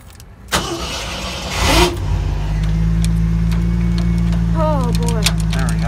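A car at a dealership cranks and catches, its engine settling into a loud, steady idle close by, with voices talking over it.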